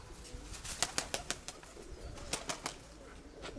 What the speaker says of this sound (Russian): голубка, наверное, летает